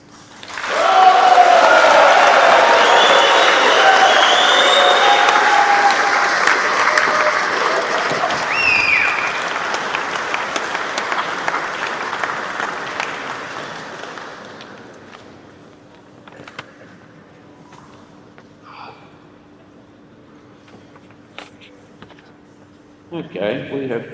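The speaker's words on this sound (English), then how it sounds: "Can everyone just give her a little cheer?" Audience at a bodybuilding nationals presentation night claps and cheers loudly for several seconds, then the applause thins and fades to scattered claps and quiet room noise.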